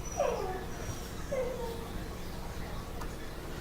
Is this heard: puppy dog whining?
yes